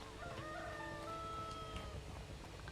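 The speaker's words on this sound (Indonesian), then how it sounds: "Ayam siapa tuh?" A chicken clucks and crows in the Sherlock Holmes: Crimes and Punishments video game, faint and distant over a soft ambient bed, with no talk.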